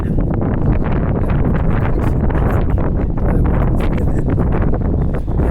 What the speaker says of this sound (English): Very windy right here.